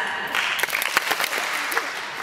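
An audience at an awards event claps together on cue, a dense burst of applause with several sharp, distinct claps standing out as it continues steadily.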